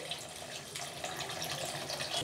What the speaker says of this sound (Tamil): இப்போ தேவையான அளவுக்கு நம்ம தண்ணி சேர்த்துக்கலாம்.